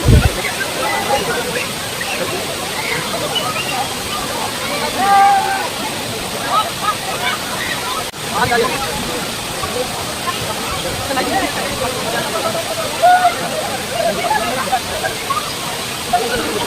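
Areekkal waterfall pours with a steady, dense rushing roar at a busy bathing spot, while faint voices of visitors rise now and then over the water.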